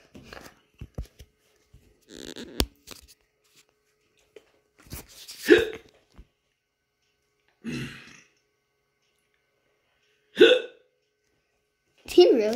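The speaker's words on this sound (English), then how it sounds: "Why I got the hiccups all of a sudden?" Hiccups from a person, several sharp abrupt gulps spaced a couple of seconds apart, close and fairly loud, with quiet rustles between and a little talk nearby.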